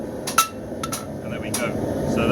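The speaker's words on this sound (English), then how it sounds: "going to lie it over with the horn of my anvil and just hit on the ricasso area" Hammer blows ringing off a knife blade laid over the horn of an anvil while forging round bar stock, with a few sharp metallic strikes spaced unevenly over a steady background hum.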